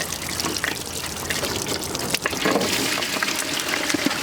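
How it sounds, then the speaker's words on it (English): Hot water gushing from the drain of an RV water heater, a strong, continuous splashing rush close by, with no talk. "it's hot water, so you want to be careful when pulling this out, that you don't get it all over yourself."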